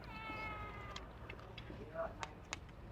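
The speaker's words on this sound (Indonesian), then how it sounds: "ada kucing yang selalu menemani kita" A cat meows several times, short and fairly close, over the chatter and background noise of an outdoor food spot where people are talking.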